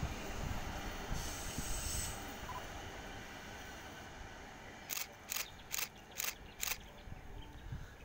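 Urbos 3 tram set on the Sydney light rail passing at moderate distance, a steady rolling rumble with a row of five sharp rhythmic clicks near the end, no talk.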